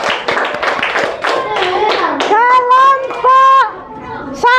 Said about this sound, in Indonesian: Sekarang kalian kasih tepuk tangan untuk kelompok 3.